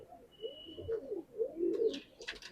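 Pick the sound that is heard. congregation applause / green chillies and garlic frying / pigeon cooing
pigeon cooing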